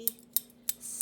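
A pair of utility snips makes three or four sharp, crisp metallic snips in a steady rhythm, close and clear, with no talk.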